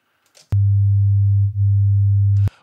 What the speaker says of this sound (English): we end up with a smoother edit, but you can probably hear there's a really distinctive little dip